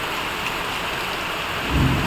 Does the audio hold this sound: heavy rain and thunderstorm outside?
yes